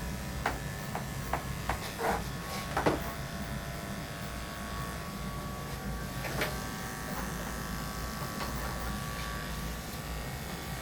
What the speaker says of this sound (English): I've got the 10 blade already on my clippers now